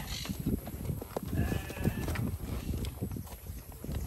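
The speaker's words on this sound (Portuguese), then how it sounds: "Aqui achei uma ovelha." Sheep handled in a ranch pen while young ewes are checked for breeding, with hooves shuffling, animals jostling and a brief bleat in the middle, all close and fairly busy.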